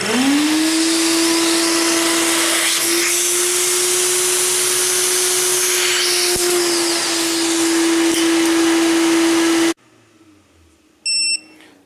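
An EggTimer Apogee rocket altimeter runs a vacuum test, its igniter firing amid a loud steady tonal whine with noise for nearly ten seconds. The whine then cuts off, leaving quiet and a short burst of high electronic beeps.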